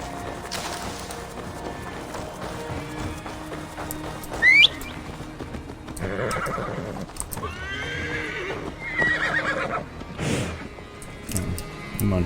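A horse whinnies sharply in Assassin's Creed Valhalla, with clip-clopping hooves and other game-like ambient sounds around it, fairly close and steady.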